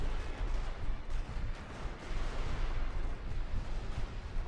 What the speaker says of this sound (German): So, jetzt sollten sie auch schießen können.